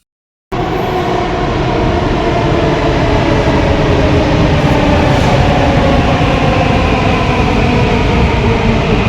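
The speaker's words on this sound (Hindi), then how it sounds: "थोड़ी देर में हमारी मेट्रो आ गई थी।" A metro train rumbles and roars loudly after a brief silence, a constant heavy clatter of wheels and motor filling the space.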